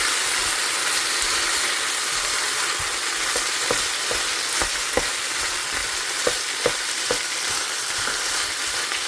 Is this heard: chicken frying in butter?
yes